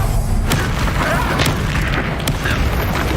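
A Descendo spell slams down in a Hogwarts Legacy battle, landing as a dense, heavy boom amid continuous combat noise, with sharp bursts near the start and middle.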